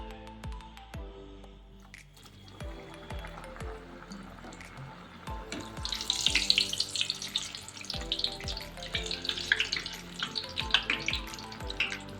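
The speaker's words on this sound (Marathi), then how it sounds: "चला आता तेल तापले आपण तळून घेऊ आता शंकरपाळ्या" Shankarpali, the crisp Marathi sweet-dough diamonds, fry in hot oil in a kadhai. A quiet background hum gives way to loud, frothy bubbling and crackle from about halfway through, with occasional dull knocks.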